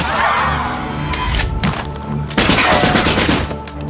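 Gunfire in a war film scene: several loud, close shots and thuds in quick bursts, layered over a dense cinematic soundtrack.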